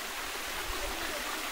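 Spring water from a natural bukal pours and gurgles steadily, a close, continuous broadband rush with low rumbling undertones and no voices.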